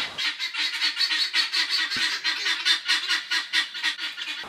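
Geese honking in a steady, rapid series of nasal calls, moderately loud and fairly close, continuing throughout with no talk.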